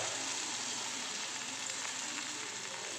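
Rava appam frying in a little hot oil, covered in the pan: a steady, even sizzle that holds at the same level throughout with no talking.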